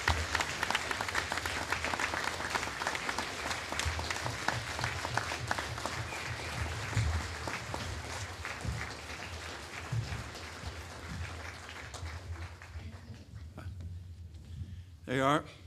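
Sustained applause and clapping from graduates' families giving a standing ovation at a graduation ceremony, a dense, steady roar of many hands that slowly thins toward the end, with voices mixed in.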